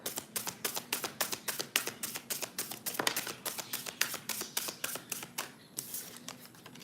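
A tarot deck is riffled and tapped in a fast run of crisp, evenly spaced card slaps that speed up, then trail off into a few softer flicks at the end.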